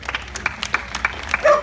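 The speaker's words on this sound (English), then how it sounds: "Round of applause." Brief scattered clapping from a small crowd at an Australiana sheep-shearing show, a few distinct claps rising into a short burst at the end.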